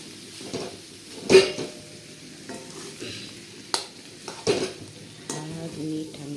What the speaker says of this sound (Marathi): हळद, मीठ आणि बटाटा असल्यावर असं छान परतून घ्यायचं तेल